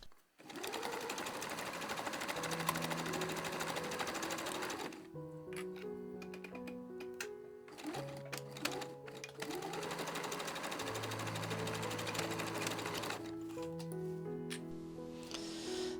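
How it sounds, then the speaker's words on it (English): A sewing machine sews a circle skirt seam in several runs, its quick needle ticking rising and falling with pitch shifts as speed changes, separated by short pauses, close and clear with no talk. "sew the rest just with a normal seam"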